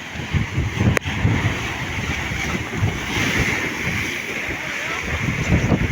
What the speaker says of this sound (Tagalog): Napakalaki ang alon